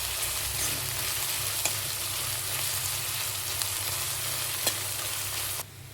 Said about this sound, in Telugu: ఉల్లిపాయలు తొందరగా వేగాలని హైలో పెట్టి వేయించకండి, సిమ్లో పెట్టుకుని మెల్లగా వేయించుకోండి